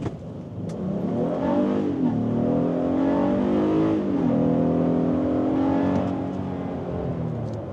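A Honda Passport TrailSport's 280-horsepower V6 revs hard and climbs in pitch, dipping briefly between pulls as VTEC engages near 5,000 RPM, loud and close with no talking.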